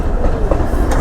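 A lone train engine rumbling past at a level crossing, loud and close, with steady low clattering of wheels on rails.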